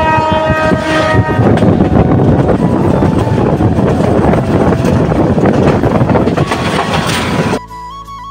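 A moving train rolls through hills and tea gardens in Sylhet with a loud, continuous rumble, rattling carriages and wind buffeting the microphone. A steady horn tone runs through much of it before the noise drops abruptly near the end.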